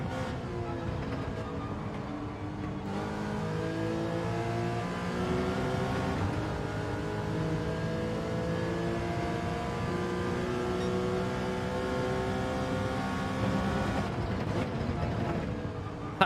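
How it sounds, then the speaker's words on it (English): Nissan GTR race car engine in Gran Turismo 7, revving and shifting through rising and falling pitch sweeps, fairly faint and continuous, with brief gear-change breaks. "That GTR is so quick through the corners."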